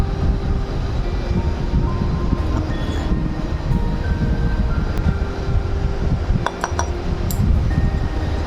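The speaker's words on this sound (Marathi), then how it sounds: "मिश्रण परतून घेऊया." A spoon clinks a few times against the pan while besan ladoo mixture is roasted in ghee over a low gas flame. The clinks sit over a steady, loud, low rumble.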